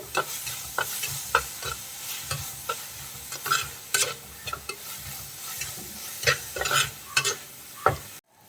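Sliced onions sauté in a pan for a Kerala fish curry, a soft sizzle broken by repeated close scraping and clacking strokes of a spoon stirring, uneven in rhythm and alone.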